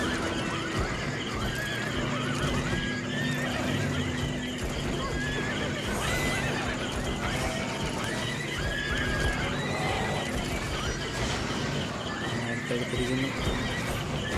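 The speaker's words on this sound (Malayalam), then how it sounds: "കുതിരപ്പുറത്തും കയറിയിരിക്കുന്നു." Horses neigh and whinny repeatedly over steady clip-clopping hooves in the video game Albion Online, set in a busy, continuous game soundscape with no speech.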